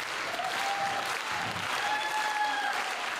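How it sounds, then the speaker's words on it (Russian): An audience applauding steadily after a performance, a close, dense wash of clapping with a few whistles rising above it. "Аплодисменты."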